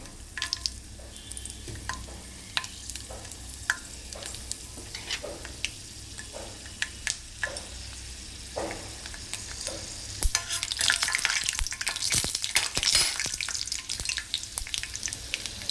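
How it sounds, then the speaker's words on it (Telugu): Peanuts fry in hot oil for jidipappu upma, a steady crackling sizzle with scattered pops and stirring scrapes that grows louder and denser toward the end. "పల్లీలు, వేస్తున్నానండి."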